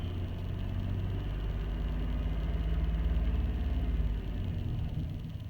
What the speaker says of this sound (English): I'm gonna give it a little bit of throttle.